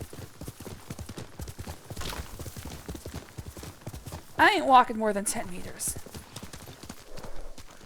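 Horse hooves clip-clop steadily in the video game Ghost of Tsushima as a mount trots along, while someone talks over them.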